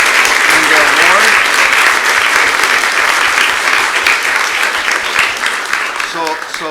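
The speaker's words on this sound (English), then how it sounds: "big applause to Team Social Seniors and their award" Loud, sustained applause at a regular commission meeting for Team Social Seniors and their award, a dense crowd of clapping hands that tapers slightly toward the end.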